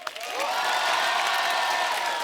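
A studio audience at The Kapil Sharma Show gives loud applause with cheers and whoops welcoming actor Ayushmann Khurrana, a dense sustained wave of clapping that rises quickly and holds steady.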